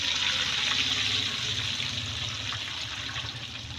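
About 1.5 litres of water pours into a pot of half a kilo of rice for jeera rice, a continuous splashing gush that softens slightly toward the end, heard close with no talking.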